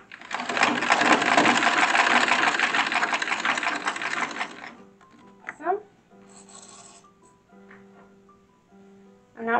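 A sewing machine stitches a chemise in one steady, loud continuous whir for several seconds, then stops, leaving quiet rustling and faint clicks of fabric handling.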